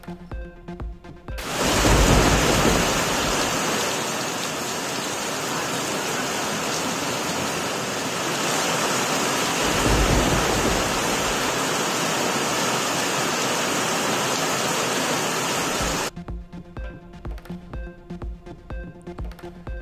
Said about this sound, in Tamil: சென்னை மற்றும் புறநகரில் சூறை காற்று இடியுடன் கொட்டி தீர்த்த மழை